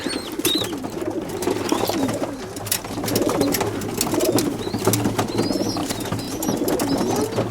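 Pigeons being transported coo repeatedly in soft, low throaty rolls, close and continuous, with occasional rustles and wing shuffles among them.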